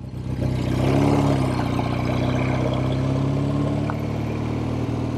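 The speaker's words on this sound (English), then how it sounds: "I'll let the bike warm up a little bit" A 1970 Triumph TR6R motorcycle engine runs steadily while warming up, a close, continuous low idle with a slight swell in revs early on and no voices.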